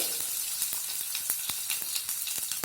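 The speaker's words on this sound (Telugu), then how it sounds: "ఆయిల్ హీట్ ఎక్కిన తర్వాత ఇందులోకి హాఫ్ టేబుల్ స్పూన్ ఆవాలు హాఫ్ టేబుల్ స్పూన్ జీలకర్ర ఒక ఐదు ఎల్లుల్లిపాయలు" Mustard seeds, cumin and garlic cloves sizzle steadily in hot oil for a Rayalaseema-style tempering, a dense continuous hiss dotted with sharp crackles and pops throughout.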